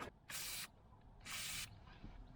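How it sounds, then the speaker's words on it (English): Two short, loud hissing bursts from an aerosol can of penetrating oil sprayed onto exhaust manifold studs and nuts of a Volvo 940 Turbo, each lasting about half a second, with a brief pause between them. "I'm going to spray all the studs and nuts on the exhaust manifold with some of this PB blaster type stuff"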